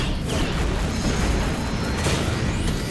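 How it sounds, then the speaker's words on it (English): A gas explosion in the video game Fate/Stay Night Remastered makes a loud, sustained rumbling boom with crackling debris, filling the full three seconds as a dense, continuous roar without pause. "Oh, gas explosion!"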